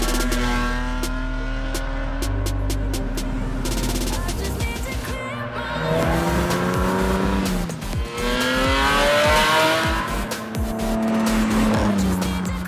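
A BMW E30 with a swapped-in S50 straight-six from the E36 M3 drives hard, its engine note rising and falling loudly with tires squealing and skidding throughout, continuous and close.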